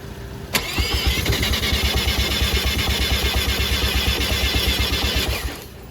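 A Mazda FC RX-7 with a swapped Turbo II rotary engine firing up for the first time: a sharp starter click, then a loud, rapid, lumpy idle pulsing steadily before cutting off near the end.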